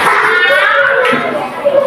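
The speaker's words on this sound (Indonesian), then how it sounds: "Tepuk tangan untuk Budi." Children clap for a classmate in a school classroom, a brief patter of small-handed applause mixed with young voices talking.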